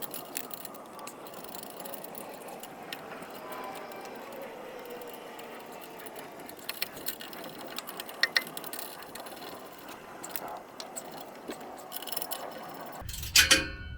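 A ratchet with a 14 mm deep-well socket tightens exhaust clamps on a 2021 Toyota Tundra, a faint, steady series of rapid clicking pawl ticks over quiet background, ending with a couple of sharper knocks.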